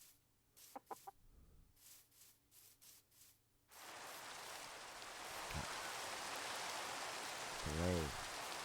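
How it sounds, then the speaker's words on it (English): Steady rain hisses down in a Minecraft world, starting abruptly after some clucking chickens and continuing as a broad wash with another chicken cluck near the end. "Rain."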